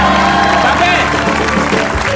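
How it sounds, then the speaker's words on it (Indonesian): An audience breaks into applause, a dense wash of clapping with voices talking over it. "Tepuk tangan dulu dong buat Vega sama Bang Mas"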